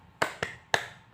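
Three sharp, close hand claps in a quick uneven rhythm, heard alone without voices, opening a clapping chant used as an ice breaker in an Indonesian classroom.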